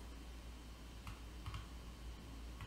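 Faint, sparse key clicks on a computer keyboard as a short search query is typed, a few soft taps scattered over a low steady hum.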